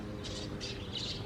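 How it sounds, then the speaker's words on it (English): A young budgie chirps three short bright calls, outdoors for the first time, faint over a low background hum. "Look at this beautiful bird."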